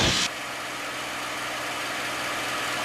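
A P-51 Mustang's piston engine drones steadily from inside the cockpit after a brief louder burst as the throttle is pulled back, settling into a continuous, even hum.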